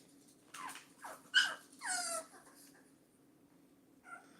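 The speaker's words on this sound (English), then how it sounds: "Yeah, no, it's my dumb dogs." Dogs barking outdoors at night, several short, sharp barks and yelps in quick succession, moderately close, then a softer final bark after a pause.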